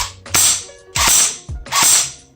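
An APS Phantom Extremis Mark IV airsoft gun fires with loud blowback, three sharp mechanical clacks spaced about half a second apart, close and alone.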